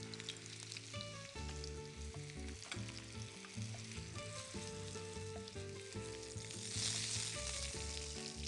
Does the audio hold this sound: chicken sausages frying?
yes